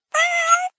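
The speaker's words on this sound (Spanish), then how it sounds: "Gatito." A single high, drawn-out kitten meow, clear and close, lasting under a second with no other sound around it.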